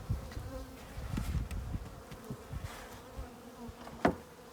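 Honey bees buzz steadily in an open hive being fed sugar water ahead of winter, a close, continuous insect drone with a few sharper knocks and one louder bump near the end, no talking.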